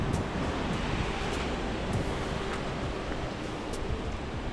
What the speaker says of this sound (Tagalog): yung alon. Hindi gaanong malakas.